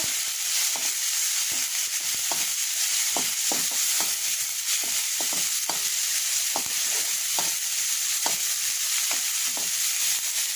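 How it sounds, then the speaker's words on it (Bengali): Spices with ginger-garlic paste, turmeric, chili powder and salt sauté in a pan, giving a steady bright sizzle with a regular series of scraping stirs, close and alone. "একটু কষিয়ে নেব"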